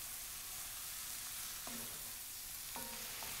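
Lamb shoulder pieces and garlic fry steadily in flavored oil in a pan for a lamb tagine, a soft continuous sizzle with a couple of brief clinks of a utensil against the pan.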